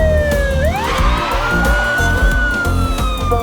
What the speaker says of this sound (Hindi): मैडम शायद पीछे से एम्बुलेंस आ रही है